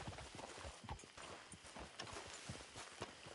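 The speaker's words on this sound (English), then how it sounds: "That's a nice horse." Horse hooves clip-clop steadily on the ground in Red Dead Redemption 2, a brisk repeating beat that stays close and clear throughout with no talking over it.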